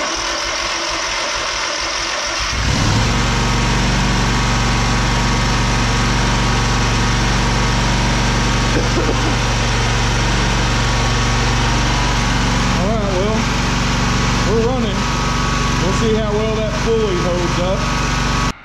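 A hard-starting engine that needed choking catches and settles into a steady, loud, unbroken idle hum after a brief rough start, with a voice talking faintly over it later on.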